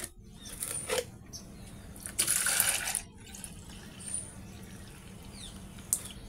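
A mug scoops homemade liquid fertilizer water, with splashing and pouring, a louder gush midway, and scattered drips and trickles close by.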